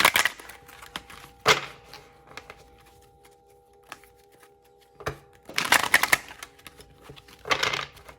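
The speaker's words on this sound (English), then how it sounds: "Okay, we're gonna shuffle 2 more times" Tarot cards being shuffled by hand in a few separate bursts of riffling and flicking, close and fairly quiet, with quiet gaps between them.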